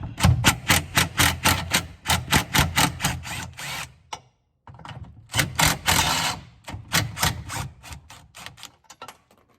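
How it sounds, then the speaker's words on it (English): An impact wrench removing bolts on a first-generation Camaro during a tail light install, loud rapid hammering bursts in several runs separated by short pauses, close and without talk. "Move those with the impact."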